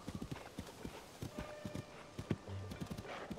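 A horse's hooves clip-clop in the video game The Legend of Zelda: Tears of the Kingdom, a quick, rhythmic run of fairly faint hoofbeats with a short whinny and game sounds behind them.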